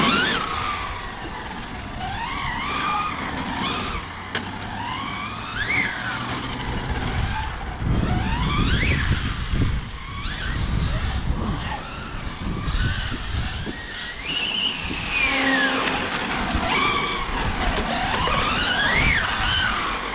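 A large-scale FG Porsche 4x4 RC car, 510mm with an 8S Castle Monster-X sensored brushless setup, is driven hard on the throttle. Its motor whine climbs and falls in repeated sweeps, loud and continuous, with no voices.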